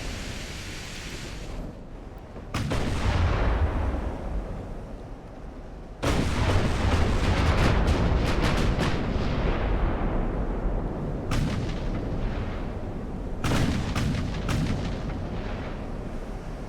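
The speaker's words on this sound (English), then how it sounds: "Firing a little ahead of him right now" Naval guns boom in the video game Ultimate Admiral: Dreadnoughts, several heavy, loud blasts at uneven intervals, each followed by a long rumbling roar, over a steady background of sea wash.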